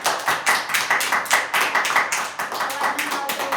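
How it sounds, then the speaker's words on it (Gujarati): Children at an anganwadi clap their hands in quick, uneven bursts, a loud close run of sharp claps that goes on throughout, with some voices mixed in. "તાળી પાડો."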